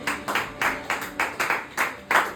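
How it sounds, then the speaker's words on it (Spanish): Church congregation clapping in a steady rhythmic pattern, about eight even pulses of hands striking together in unison, moderately loud and close with no talk over it. "Un aplauso, Señor."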